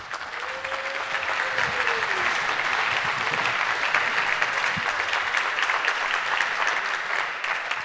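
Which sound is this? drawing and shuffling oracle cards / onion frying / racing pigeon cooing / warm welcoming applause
warm welcoming applause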